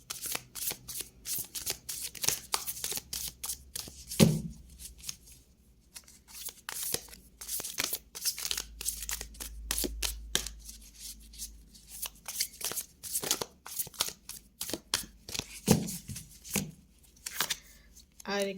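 Tarot cards are shuffled and drawn by hand, with repeated quick riffling and flicking bursts and soft card-handling rustles close up.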